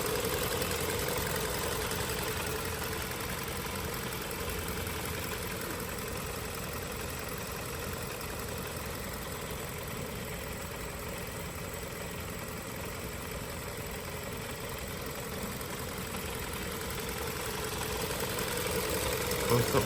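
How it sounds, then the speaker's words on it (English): A car engine, treated with a ceramic friction-proofer additive, idles smoothly and steadily for twenty seconds, a close, even hum with a faint mechanical whine and no change in pace. "See the bottle of water hardly moving. Engine is so smooth."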